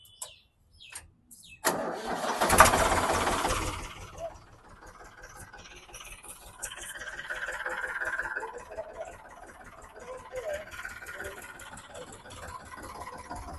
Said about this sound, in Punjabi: ਕਲਚ ਦੱਬ ਕੇ ਸਲਫ ਮਾਰ ਦਿਓ